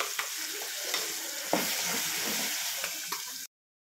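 Tomato and green chilli chutney frying in a pan after turmeric has been added, a steady close sizzle with light stirring scrapes and a few soft clinks, ending abruptly in silence.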